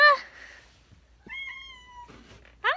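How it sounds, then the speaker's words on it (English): A yellow striped cat meows up close indoors, one short meow and then a drawn-out, clear meow, with a brief rising cry at the end and quiet gaps between them. "This is my cousin's cat."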